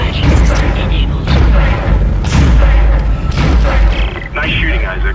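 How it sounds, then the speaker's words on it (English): Automated turret gunfire in a Dead Space game cutscene: heavy booming bursts and deep thuds repeat across the clip, loud and close over a rumbling low background. "Nice shooting, Isaac."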